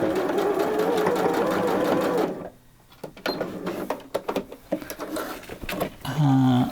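A domestic sewing machine running steadily for about two seconds in reverse stitch, then stopping, followed by short mechanical clicks and brief taps; a voice speaks near the end.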